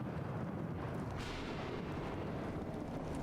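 Deep, continuous rumbling thunder from a lightning storm in the game Bendy and the Revival, loud and sustained throughout with a broad roaring wash and no talking.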